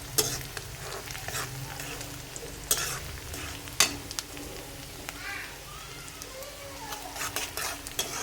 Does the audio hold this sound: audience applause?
no